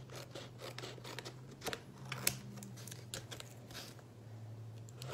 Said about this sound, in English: then I'm going to cut it any shape that I want